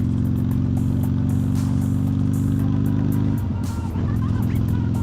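A motorcycle engine rumbles steadily up close, its low throbbing drone shifting briefly near the end as the revs change.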